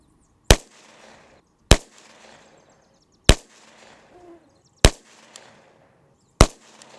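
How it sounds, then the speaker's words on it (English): Five evenly spaced rifle shots firing Fiocchi .223 55-grain ammunition at a 50-yard range ring out sharply, each loud crack followed by a short decay and quiet between shots. "50 yards, we're shooting Fiocchi's 223A, just like we did in the chronograph"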